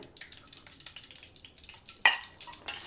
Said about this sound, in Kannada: ಅದು ಸ್ವಲ್ಪ ಕಪ್ಪಲ್ಲಿ ನೀರಿನಂಶ ಇತ್ತೇನೋ ಅದಕ್ಕೆ ಸಿಡಿತೈತೆ